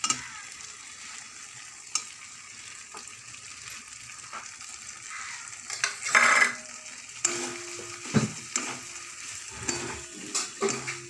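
Fried potatoes are stirred into spices in a pan, giving a steady sizzle and scraping spoon strokes that grow busier toward the end, with no talking.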